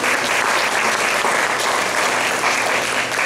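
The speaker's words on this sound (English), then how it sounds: "So give a big round of applause to Jessica." An audience at a school PTO meeting applauds with dense, steady clapping from many hands, loud and sustained throughout.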